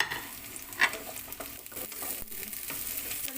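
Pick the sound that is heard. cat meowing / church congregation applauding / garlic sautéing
garlic sautéing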